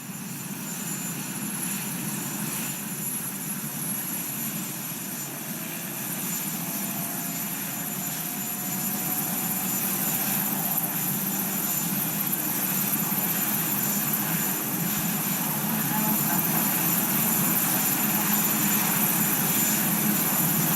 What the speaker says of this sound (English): The recognizable white top of Marine One.